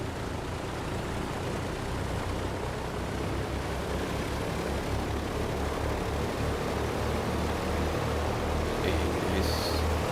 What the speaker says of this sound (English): let's start our engine run-up procedures